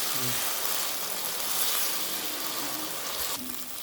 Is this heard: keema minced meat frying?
yes